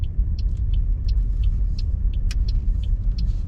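A car driven slowly in second gear gives off a constant low, heavy rumble with a shaking drone from inside the cabin. Faint light ticks sit above the steady, loud vibration throughout.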